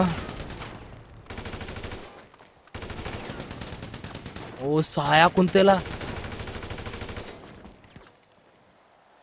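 Gunfire in a GTA 5 gunfight: after a stretch of game noise and a voice, a cluster of rapid, loud shots bursts out mid-clip, then fades back to the din with talking.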